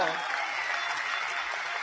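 Applause from an audience at an Amway gathering, a steady wash of clapping at moderate level throughout, with a voice speaking over it.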